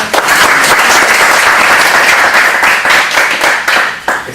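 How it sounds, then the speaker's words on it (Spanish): An audience at a workshop on the Indigenous peoples of the Peruvian Amazon applauds loudly and continuously, a close, dense wash of clapping with no talk over it. "un fuerte aplauso para todos ustedes"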